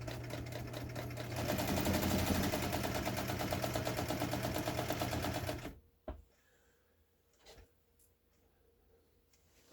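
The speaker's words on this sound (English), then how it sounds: "And we're going to sew right down that seam." A Brother 230 Galaxie sewing machine stitches down a fabric seam with a steady, rapid mechanical whir and needle chatter for about six seconds, then stops, leaving a few faint clicks in near silence.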